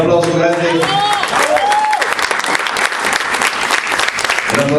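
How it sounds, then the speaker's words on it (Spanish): Strong audience applause after a storytelling performance of a García Márquez tale, dense clapping with voices and cheers rising over it, louder at the start and holding steady. "Un aplauso grande para Douglas Amaya"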